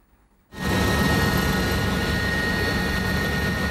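Helicopter flying over a nighttime police raid on a clan stronghold, a loud sustained rotor and engine roar that cuts in abruptly after a brief quiet start and holds steady to the end.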